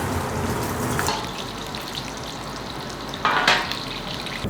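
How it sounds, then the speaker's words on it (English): Onion and ginger shallow frying in fat in a home kitchen give a continuous close sizzle and crackle, with brief louder bursts of spitting as the pieces are stirred. "So we're almost like shallow frying it just to get all that flavor into the fat."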